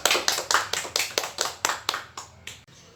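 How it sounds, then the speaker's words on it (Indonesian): A classroom of students gives a short round of clapping for a classmate in a lesson on cone surface area: about a dozen quick, slightly ragged bursts of claps that thin out and fade toward the end. "Tepuk tangan untuk Jendra."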